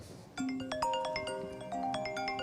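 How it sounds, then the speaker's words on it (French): A short, bright electronic ringtone melody plays a handful of chiming notes in quick succession, clear and moderately loud against a quiet background. "Voilà, la petite sonnerie."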